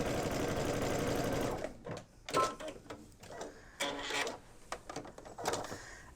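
Sewing machine stitching knit fabric, a steady loud mechanical whir that stops, then scattered clicks and handling noises.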